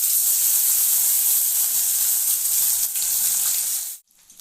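Pieces of bhetki fish frying in hot oil, a loud, steady hiss of sizzling that holds for about four seconds and then cuts off abruptly, leaving near silence.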